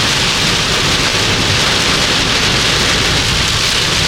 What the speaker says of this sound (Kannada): ಚೆನ್ನಾಗಿದೆ ನೋಡಿ ಮಳೆ